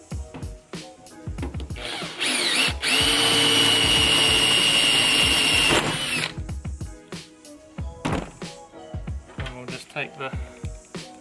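Close power drill boring the second 5mm hole in an R32 Skyline boot lid for a drag wing, one steady whine lasting about three seconds, framed by clicks and handling knocks.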